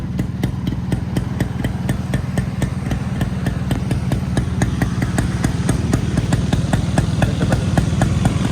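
A Kawasaki Brutus 140 motorcycle with a Tanay aftermarket silencer idles and revs close by, its exhaust giving a deep, rapid, crackling thump that grows slightly louder toward the end.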